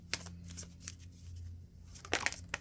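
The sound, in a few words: shuffling tarot cards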